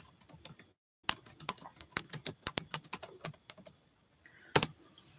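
Fingers type on a computer keyboard in close, crisp bursts of rapid keystrokes, broken by short pauses, with a longer gap and a final flurry of clicks near the end; no voices.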